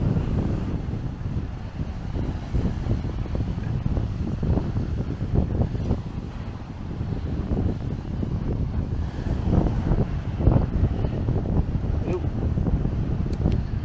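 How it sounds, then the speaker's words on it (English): Steady wind buffets the microphone outdoors in the Pilbara, a continuous low roaring rumble with surf-like hiss running throughout. "Because the winds, it's windy, but it's cool."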